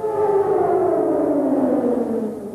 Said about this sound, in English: A siren sounded for 2 minutes all across Israel